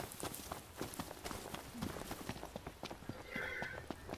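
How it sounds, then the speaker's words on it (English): Running footfalls of a chocobo in Final Fantasy XV thud in a quick, steady clip-clop rhythm, close and fairly loud, with a brief bird-like call near the end. "See ya, Chocobo."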